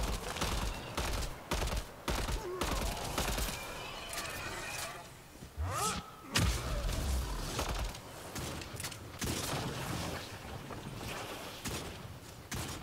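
Gunfire in the sci-fi shooter game Mass Effect: Andromeda, with bursts of rapid shots and impacts coming in clusters across the scene, with brief gaps and one louder blast midway.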